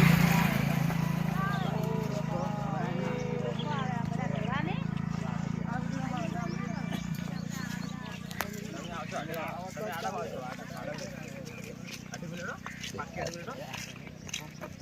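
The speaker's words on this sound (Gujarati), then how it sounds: "આખો સંગ ઘોડા ઘોડે હેડે છે, બૂમ પડાવે છે।" Walking horses clip-clop steadily for several seconds, their hooves mixed into a busy outdoor scene with a constant low hum and voices in the background.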